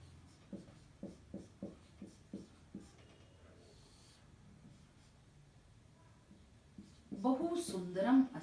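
A pen or pencil writes by hand with a series of short, quiet scratching strokes in a steady rhythm, followed by a pause and then a louder burst of rustling close by.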